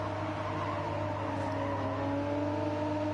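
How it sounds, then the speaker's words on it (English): A race car engine drones at a steady, even pitch just behind, heard over a continuous loud engine hum with no break through the clip. "you could just hear the engine of Seagull just behind"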